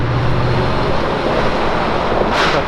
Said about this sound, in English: Got the Dollar General truck.